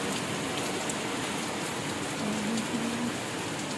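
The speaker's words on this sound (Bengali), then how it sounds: "বৃষ্টির জল হাতে পড়ায়।" Steady rain falls close by, a dense, even patter that holds without a break from start to end, with no voices.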